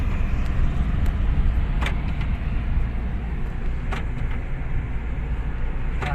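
An automatic-transmission car heard from inside while driving, with a steady low engine and road rumble that holds constant, plus a few sharp clicks and knocks, and no one talking.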